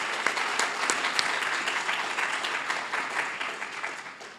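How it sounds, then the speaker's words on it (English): An auditorium audience at a poster competition at the Grand Rapids Art Museum applauds its sponsors: a steady, dense wash of many hands clapping at even loudness for over four seconds, fading slightly at the end. "Let's give them a round of applause"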